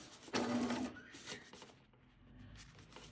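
A domestic sewing machine stitches around a corner of a baby boy's burial outfit, with one loud, fast whirring burst early on followed by quieter, intermittent short runs and handling sounds.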